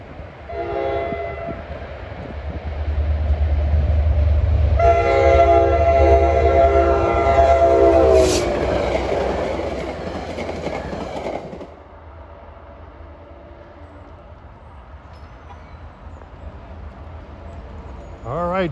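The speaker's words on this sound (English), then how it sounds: "at 3:23, the gates are going down for train 49 from Hoboken to Middletown" A commuter train from Hoboken to Middletown passes a grade crossing at Ramsey, New Jersey, as the gates go down. A long blaring horn sounds over the rumble of the train, which is loud and near and then fades.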